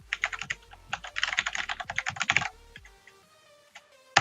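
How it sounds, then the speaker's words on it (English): Rapid clicking of computer keys in quick bursts, a short flurry of typing followed by a pause and a final keystroke, close and fairly quiet. "It will ask me for my username, so I'm going to type that in."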